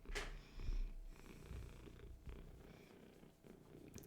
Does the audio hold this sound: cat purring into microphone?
yes